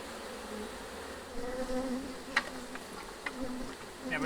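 Honey bees drone loudly around an opened hive during an inspection, a dense continuous hum with wavering pitches close by, punctuated by a few brief clicks and knocks of frames being handled.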